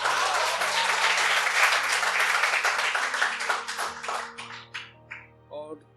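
Listeners at a Hindi poetry gathering clap in a thick burst that thins into scattered separate claps and fades out, with a low musical drone underneath.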